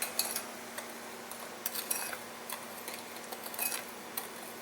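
A spoon clinks and scrapes lightly against a container while stirring Sure Gel pectin powder with blackberry juice, a faint run of irregular small ticks and taps with no talking.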